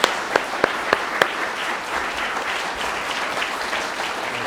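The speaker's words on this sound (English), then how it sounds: "Could you give them a round of applause?" Many hands clap for a youth brass band at an Easter final concert, opening with a few sharp, separate claps before swelling into a steady, full wash of applause that holds to the end.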